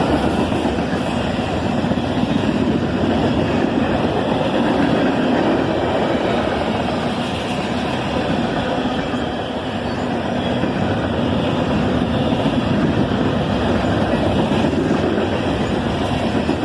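A southbound CSX manifest freight train led by a single ES44AC locomotive rolls past with a continuous loud, broad rumble and rattle of wagons that holds steady for the whole stretch.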